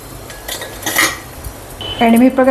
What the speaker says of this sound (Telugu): ఇది ఒక గిన్నెలోకి తీసేద్దాము ఒక గిన్నెలోకి తీసేసుకొని